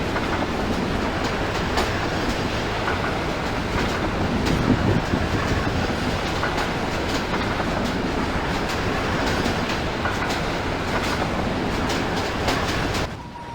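A steady, loud rumble of a Zecrail VR V Class train rolling on rails in a train-simulator game, with faint rhythmic clacking running throughout and no voices.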